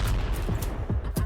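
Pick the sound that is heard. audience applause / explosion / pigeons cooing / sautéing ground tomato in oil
explosion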